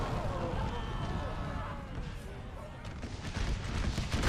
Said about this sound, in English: Whoa, that is a beautiful artillery hit.